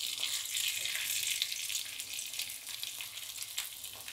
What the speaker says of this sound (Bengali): যাতে তলাটা ভালো করে ভাজা হয়